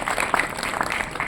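Dense clapping from a class of students, steady and fairly close, with a few sharper claps standing out through the brief burst.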